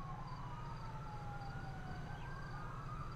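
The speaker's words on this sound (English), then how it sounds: "I hear the sirens." Police sirens in a video game wailing faintly in the distance, rising and falling tones layered over a steady low engine rumble.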